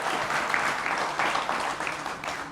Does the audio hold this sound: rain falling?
no